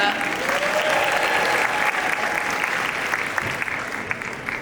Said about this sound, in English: Let's hear it one more time for Divya.